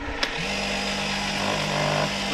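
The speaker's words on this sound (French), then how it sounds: "un broyeur électrique. Et il va nous broyer les pommes d'une façon très rapide et très professionnelle" An electric fruit crusher grinding apples for homemade juice runs with a steady, buzzing motor hum after a brief click at start-up, close and continuous with no talking.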